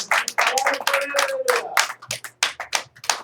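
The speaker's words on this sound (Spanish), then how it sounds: "Una ofrenda de palmas para el Señor." A church congregation claps hands together as an offering of praise to the Lord, loud close rhythmic claps in uneven bursts, with a voice briefly audible beneath them.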